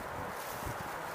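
Wind blows steadily outdoors as a dense, broadband rush with low gusty rumbles buffeting the microphone, constant and fairly loud throughout, with no talking.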